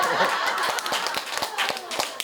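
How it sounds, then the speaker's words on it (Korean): Clapping from an audience in a church sanctuary during a lively sermon, a burst of hand claps with scattered laughter, fairly close and mixed with murmuring voices. "박수 한번"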